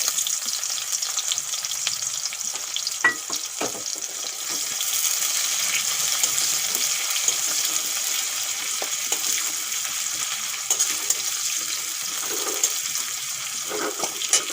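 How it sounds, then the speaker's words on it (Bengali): Cumin seeds and chopped onion fry in hot oil for a bhindi dish, giving a steady, close sizzle throughout. Occasional clicks and scrapes from stirring cut through the hiss, and no one speaks. "পেঁয়াজটা হালকা করে ভেজে নিয়েছি"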